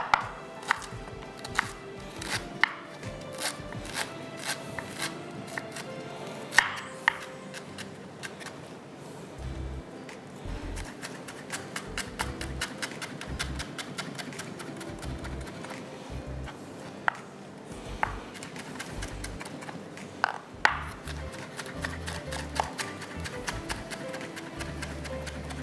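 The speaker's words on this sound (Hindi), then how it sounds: "ये हो गया हमारा जिंजर चॉप" A knife chopping ginger on a cutting board in a kitchen, rapid steady knocks continuing throughout at close range, moderately quiet.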